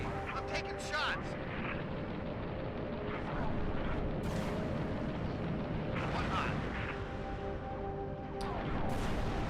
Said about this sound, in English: Taking fire from that banshee.